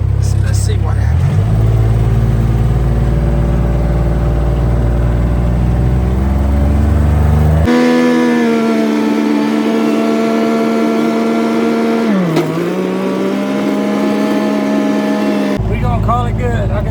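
A 2006 Kawasaki Mule 3010 4x4 utility vehicle drives along with a steady loud engine drone, the pitch shifting as it changes speed and dipping briefly near the end, with a voice talking over it at times.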